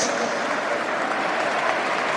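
A large Wembley stadium crowd at a football match claps steadily in tribute to Sir Bobby Charlton, a broad continuous roar of applause from a distance.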